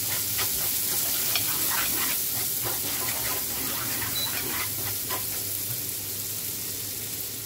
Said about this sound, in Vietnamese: Các bạn cho gia vị vào đây, các bạn xào để cho cái phần gia vị này nó tan.